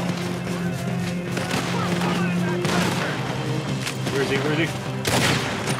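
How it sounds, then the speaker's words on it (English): Repeated gunshots in Red Dead Redemption 2 crack in rapid bursts over a busy in-game skirmish, loud and close, with a voice talking over the firing. "Damn, I shot him."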